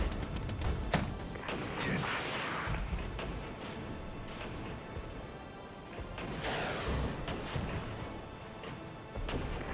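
Artillery fire in the real-time strategy game Regiments: a steady rumble of distant booms, thuds and crashing impacts runs throughout with scattered sharp cracks and swelling blasts, and no talk.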